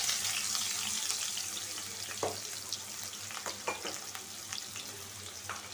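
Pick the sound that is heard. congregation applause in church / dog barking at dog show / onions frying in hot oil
onions frying in hot oil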